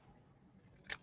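Scissors gummed with wet glue snip during a craft project, a single quiet cut near the end after faint background hiss.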